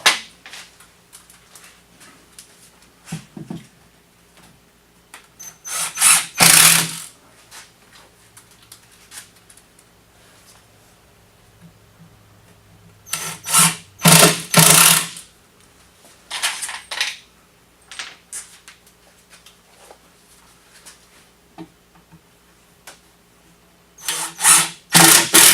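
A power drill drives a screw into wood while building a bat house from scratch, heard as several short loud bursts of whirring separated by quiet gaps, with a final burst at the end.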